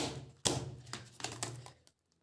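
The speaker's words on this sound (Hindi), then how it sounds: "इसको पलट लीजिए और कहीं पे आप इसको ऐसे पकड़ के और इस तरीके से पटकिएगा तो इसमें जो डस्ट होता है ना वो निकल जाएगा" A laptop keyboard is flipped over and knocked against a surface to shake dust loose, giving one sharp thud followed by several quicker rattling taps, close and fairly loud, with no talking.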